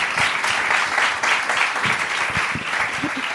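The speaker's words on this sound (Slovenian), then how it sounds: "Dajmo en aplavz, lepo prosim." Audience applause during a podcast recording, a steady, dense wash of many hands clapping together, close and fairly loud throughout with no voices over it.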